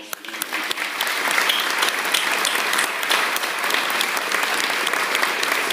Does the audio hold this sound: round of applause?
yes